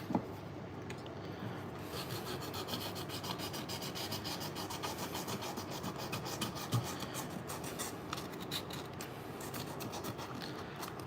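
Steady hand sanding with wet sandpaper on an oxidized, pitted Penn 8500ss spinning reel, a continuous close rasping rub that runs without pause throughout, with no voices.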